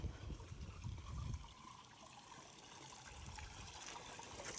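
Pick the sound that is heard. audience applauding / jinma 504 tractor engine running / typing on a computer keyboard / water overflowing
water overflowing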